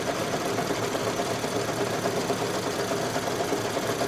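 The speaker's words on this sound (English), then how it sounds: "Now it's going to stitch the background quilting." Single-needle embroidery machine stitching background quilting on a Kimberbell parade truck design, a close, steady rapid mechanical whir and chatter of needle strokes running continuously, with no talk.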